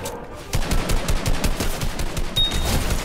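Rapid gunfire in the Fortnite video game, a steady run of loud, close shots in quick rhythm that begins after a brief quieter moment and keeps going throughout.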